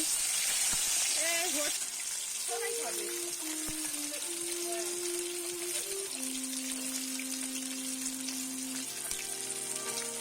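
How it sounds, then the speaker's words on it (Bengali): Pieces of snakehead fish fry in oil in a pan, giving a continuous soft sizzle. Sustained tonal sounds run over it for most of the stretch. "মাছগুলো এপিট ওপিট উল্টে ভালো করে একটু লাল লাল করে ভেজে নিতে হবে।"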